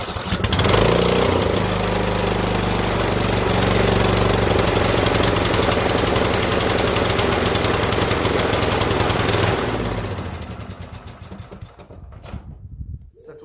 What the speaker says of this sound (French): je démarre la machine et je vous montre